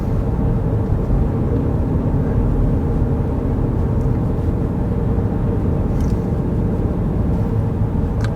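Ford Maverick Hybrid pickup with a CVT driving under partial throttle, a dense steady low engine and road drone that holds constant throughout, with no talk.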